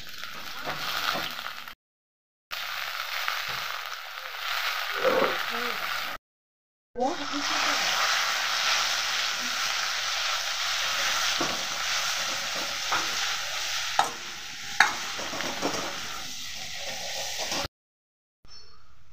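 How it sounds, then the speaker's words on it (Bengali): Onions fry in hot mustard oil with a continuous close sizzle and occasional stirring clicks, broken by a few short silent gaps. "তেলটা গরম হয়ে গেছে, পেঁয়াজটা দিয়ে দেবো।"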